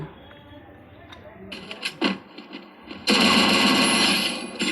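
Rapid automatic gunfire bursts erupt in a squad-mode shooter video game, starting as scattered sharp shots and building into a loud, sustained barrage, with a voice talking over the action.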